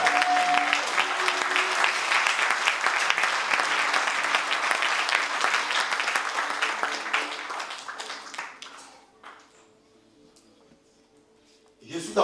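A church congregation bursts into loud, sustained applause and cheering with dense clapping that fades after about eight seconds, followed by a quiet pause and a few scattered claps.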